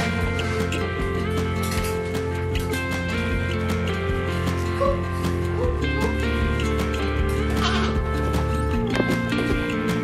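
Goats on a homestead bleat in long, wavering cries that follow one another and overlap, fairly close and loud over a steady farmyard background.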